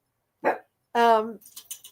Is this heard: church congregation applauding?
no